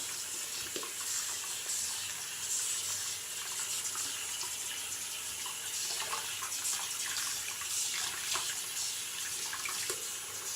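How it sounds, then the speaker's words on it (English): Tap water running into a sink while hands are washed after working up shave cream lather, a soft steady hiss with faint splashing, fairly quiet and uninterrupted. "Let me wash my hands."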